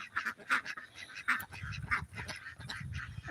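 Muscovy and Ancona ducks on a farm give close, repeated quacks in irregular bursts, some raspy and some more nasal, with a low grumbling call in the middle.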